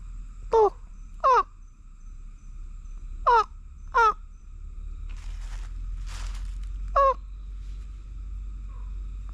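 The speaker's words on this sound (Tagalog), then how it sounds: "Ibon yun ah." Harsh, crow-like caws ring out five times at uneven intervals, loud and close, over a quiet forest background with faint rustling.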